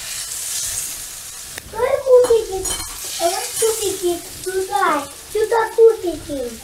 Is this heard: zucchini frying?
yes